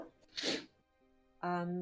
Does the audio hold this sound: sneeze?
yes